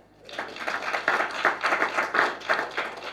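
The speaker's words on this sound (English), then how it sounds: "Round of applause, everybody." A small group claps steadily for a few seconds, a brief round of applause close by with no talking.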